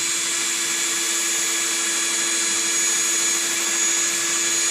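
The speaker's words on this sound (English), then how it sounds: "I'm just going to slowly drill through it." A power drill whines at a steady high pitch while slowly drilling through a plastic bucket, running continuously without pause, close up and fairly loud, with no voices.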